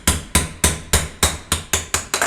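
Eight sharp metallic knocks from a round end hammer flattening a dent in a transmission governor cover, struck in a quick, steady rhythm with brief ringing decay after each blow.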